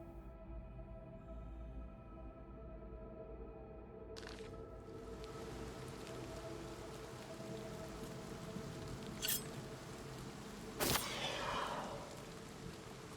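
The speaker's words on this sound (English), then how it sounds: "why is the rain noise still going?" Ambient rain loop from the game Oblivion Remastered, a soft steady wash of falling rain that broadens partway through, with a couple of brief sharp swishing bursts over a low background hum.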